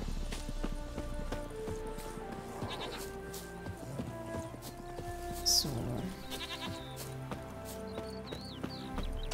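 Goats bleating in The Witcher 3 game world, a few short calls over a steady ambient bed with hoof-like clip-clop and music tones throughout, with no voices.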